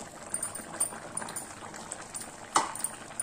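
A pot of mocha payaru kulambu, a curry of field beans with ground coconut paste, bubbles at a steady low simmer, a soft continuous gurgle with one brief louder pop near the end and no talking.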